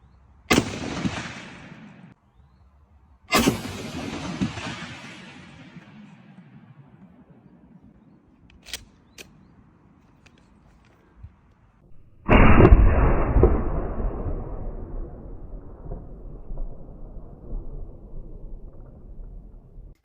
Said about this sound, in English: This is a Mossberg 500 something, I guess. Your Grandpappy's standard 12-gauge pump action